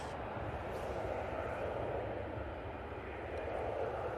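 An easyJet airliner on its takeoff roll on runway 05 left at Manchester Airport, a steady distant jet engine roar with broadband rumble, continuous and fairly faint.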